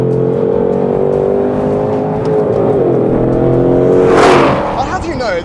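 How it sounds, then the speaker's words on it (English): A 2020 C8 Corvette Z51 engine revs hard under acceleration, pitch climbing through quick gear changes with a sharp rise and cut near the end, loud and close. "Look how fast these shifts are."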